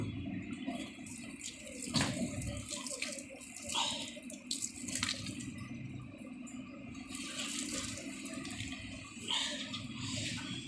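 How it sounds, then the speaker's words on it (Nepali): Water is poured onto potted chilli and mint plants in a home garden, a steady splashing trickle that runs continuously with small surges, heard up close and alone. "फाइनली पानी हाल्दैछु।"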